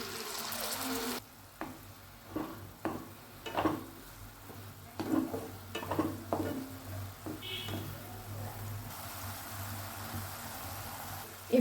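Chicken mince being stirred in a pan, with a steady run of scraping, clacking strokes over a soft background sizzle and no voices.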